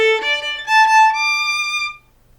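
Violin playing a quick run of 30-second notes, bright sustained tones with fast note changes, ending on a held note that stops abruptly, played solo and close.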